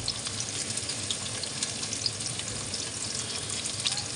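Chopped onions frying in a pot of hot oil for chicken kabsa, a busy, crackling sizzle with faint stirring scrapes, steady and close, with no one talking.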